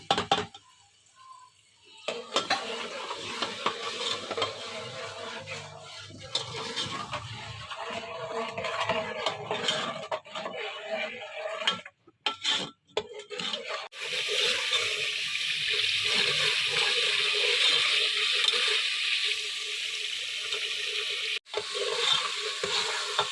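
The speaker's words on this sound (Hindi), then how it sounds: "मसाले को हम अच्छे से भून लेंगे। साथ ही मैं इसमें स्पाइसेस भी शामिल कर देती हूँ।" Ground spices fried and stirred in hot oil for a potato and lentil aloo masoor curry give a steady, fairly loud sizzle with scraping stir strokes and a few brief breaks.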